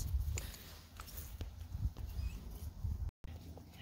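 A young horse walks across an arena, its hooves giving soft, dull, steady thuds at a relaxed walking rhythm, close and fairly quiet, with faint background rustle.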